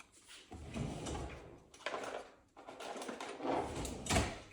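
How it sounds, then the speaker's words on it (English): A maintenance drawer is handled as a spare 3D-printer hot end is put away and the drawer slides shut. The sounds are close and fairly loud: rustling and sliding, with a knock near the end. "So I'm just gonna put this aside in my maintenance drawer"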